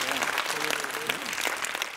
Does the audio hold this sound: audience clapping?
yes